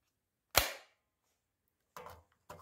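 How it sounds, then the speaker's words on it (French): A Nerf Glock SMG flywheel blaster fires one sharp, close shot, followed by two shorter, quieter mechanical bursts after a pause, with silence between them. "Après vous appuyez plus fort et ça tire."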